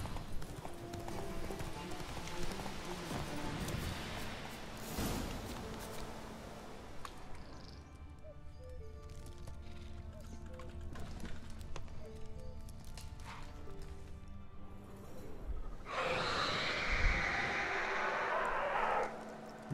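Clip-clopping hooves of Roach, Geralt's horse in The Witcher 3 video game, trot steadily at a moderate distance with game music and ambience around them and an occasional whinny.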